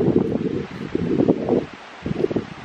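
Gusty wind buffets the microphone in low rumbling bursts, easing briefly before picking up again.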